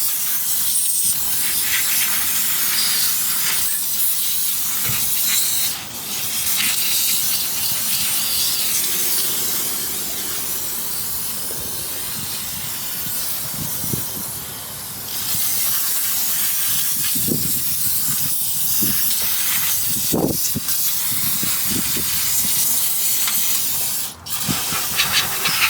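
Brake cleaner sprays in a long, loud, steady hiss over the brakes of a 2006 Honda Odyssey, with a few short breaks and dribbling splashes between bursts.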